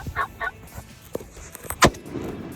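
Wild turkey gobbles during a youth spring turkey hunt, short loud calls cutting through outdoor air, with one sharp burst near the end over faint rustling.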